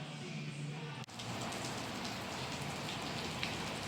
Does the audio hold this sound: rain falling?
yes